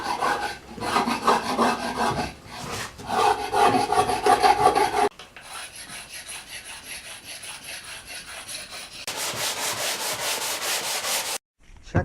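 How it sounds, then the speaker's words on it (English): Steady scraping rasp strokes across a wooden axe handle being worked smooth during a restoration, close and fairly loud, with a change in tone partway through and a brief stop near the end. "So now I got to scrape all this down smooth and then sand it."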